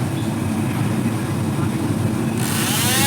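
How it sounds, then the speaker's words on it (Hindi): A noisy cooling fan inside a computer gives off a steady, rough whirring roar with a gritty rattle, close and constant throughout, brightening slightly near the end. "ये कहीं ना कहीं किसी फ़ैन का ही आवाज़ है"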